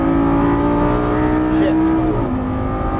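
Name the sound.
Lamborghini Gallardo LP550 engine accelerating on track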